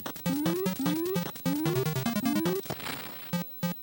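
Cheetahmen video game audio: bright chiptune music with rising bleeps, then a burst of harsh noisy static as the player gets hit, followed by a few more beeps.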